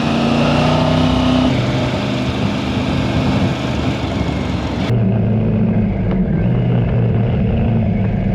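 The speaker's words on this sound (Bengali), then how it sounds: "ফুল কর্নারিং করছি এত বড় বাইক নিয়ে ভাই।" A big motorcycle engine drones steadily while cornering on a mountain road near Ranikhet in landslide-hit hill country, loud and continuous with wind rush, the tone shifting and dropping midway as the rider changes gear or throttle.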